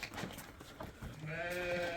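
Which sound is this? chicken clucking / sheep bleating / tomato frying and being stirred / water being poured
sheep bleating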